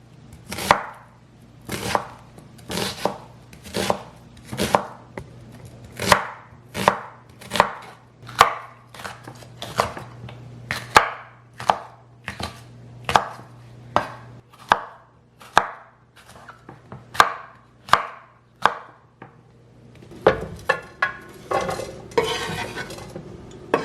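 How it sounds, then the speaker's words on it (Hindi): A knife chops vegetables into julienne on a board, about twenty sharp evenly spaced strokes in a steady rhythm, close and clear, ending in a quicker flurry of small cuts and clatter. "तो इनको सबको आप यूँ जूलियन में कर लें।"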